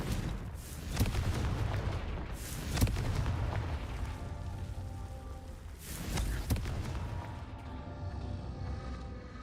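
Confringo fire spell in Hogwarts Legacy, heard as a series of booming, crackling blasts, with sharp explosive hits near the start, in the middle and again later over a rumbling, rain-like bed of noise.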